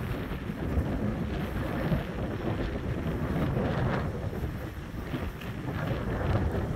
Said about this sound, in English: Whole lot of breeze blowing up here, people.